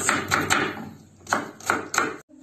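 A knife chops onion on a board in close, crisp strokes, three quick cuts, a pause, then three more, with no talking.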